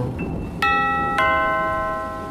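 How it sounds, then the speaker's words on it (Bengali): A doorbell rings twice with clear, close electronic chimes, each tone ringing out and fading slowly against a soft backdrop of rain. "দরজায় কলিং বেল বাজল"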